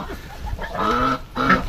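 Fat farm ducks, just driven ashore in the countryside, give a few loud, nasal quacks close by in quick succession.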